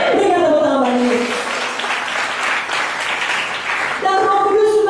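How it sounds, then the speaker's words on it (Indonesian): Worshippers at a church seminar in Pekanbaru break into applause that fills the middle of the clip, while a voice talks or calls out over the clapping at the start and end. "Berikan tepuk tangan bagi Yesus"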